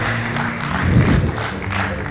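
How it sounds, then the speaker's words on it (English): A crowd at an anniversary celebration of an orators club applauds in a steady, continuous wash of clapping, swelling slightly in the middle and then holding level. "please give a huge round of applause"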